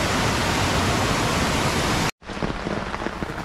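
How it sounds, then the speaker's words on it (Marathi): Heavy rainwater rushing down from a dam, a dense, loud, continuous roar that cuts off briefly and returns a little quieter. "तुम्ही बघू शकता किती फोर्सने पाणी येत आहे."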